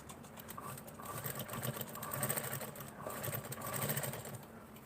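A sewing machine runs steadily while stitching a slit in fabric, a continuous mechanical whir with fine rapid ticking that swells slightly in the middle and stays close and alone.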